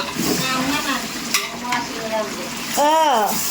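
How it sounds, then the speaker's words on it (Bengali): Biryani cooks in a pot with a steady, close sizzle and the scrape of stirring, and a voice briefly rises near the end. "আমাদের আজকের বিরিয়ানি রান্না চলতেছে।"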